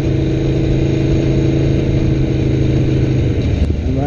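A 2016 Aprilia Tuono V4 1100 RR motorcycle engine runs steadily and loudly at close range, a continuous low throb held at an even pitch throughout with no voices over it.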